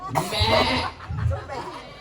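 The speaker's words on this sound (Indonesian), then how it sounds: "Itu kambing moko tuh." Goat bleating in a short wavering call, close and fairly loud, with a second bleat following after a brief pause; a voice is faintly present alongside.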